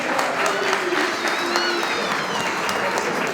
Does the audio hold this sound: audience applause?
yes